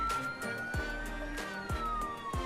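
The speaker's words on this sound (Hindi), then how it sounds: "ये स्टार्ट हो गई है और साइरन्स भी है यहाँ पर" An electronic siren wails steadily from a small toy motorbike at a busy toy fair, its tone sliding slowly downward over repeated rhythmic beeps and clicks, loud and close.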